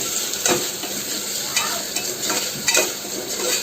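Onions and carrots fry in oil in a pan with a steady close sizzle, and a spoon scrapes and turns them in several distinct strokes.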